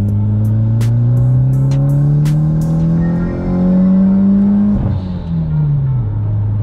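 Mitsubishi Evo engine with turbo boost around 17 to 21 psi, revving loudly and steadily climbing toward 6,000 RPM, then dropping sharply as the throttle closes, close and alone.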